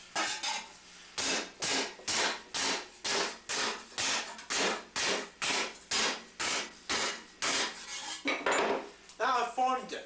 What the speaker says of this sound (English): allow a little portion of it to hang off the edge and hammer on it